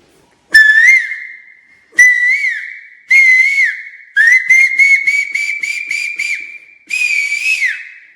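A man whistles an imitation of a cuckoo: a series of clear, loud, rising two-note calls, then a quick run of rapid repeated chirps and one final call, close and with no other sound.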